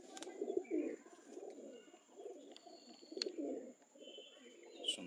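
Pigeons brought from Madras coo in soft, low, rolling bursts close by, with faint high whistles and occasional sharp clicks in the background.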